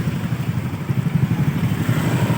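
A motorcycle engine runs steadily with a low, pulsing throb on a flooded street, close and fairly loud, with a faint clatter and no talk.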